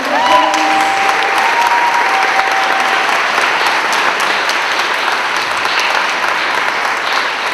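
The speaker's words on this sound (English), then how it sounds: "And I just want to have one more round of applause for Dale and all of you." Dense, loud applause from a crowd at an outdoor rent control rally in Seattle, steady clapping with a few cheers and a brief whistle, continuing without a break.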